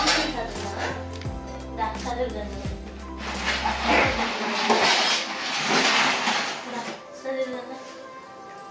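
A cooking pot and dishes being washed in a home kitchen, with close metallic clanks and clatter followed by running water and scrubbing, while someone talks over it.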